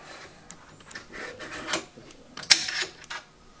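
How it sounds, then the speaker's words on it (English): A chrome rifle bolt being pulled back and out, giving faint metallic slides and clicks that build to a sharper snap near the end, quiet and close. "Here we're going to pull the bolt out."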